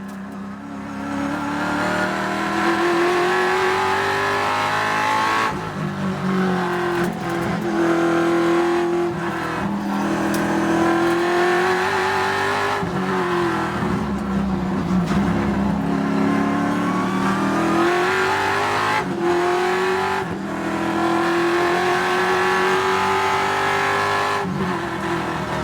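Trans Am Series race cars battle at Sonoma, engines roaring and rising in pitch through gear changes, with repeated sharp upshifts and a continuous loud drone from several cars close by.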